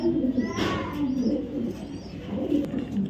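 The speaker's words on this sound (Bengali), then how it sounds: "প্রত্যেকটা কবুতর রেস করা কবুতর" Racing pigeons coo in soft, repeated low throbbing calls that run steadily through the clip, close by, with a faint voice in the background.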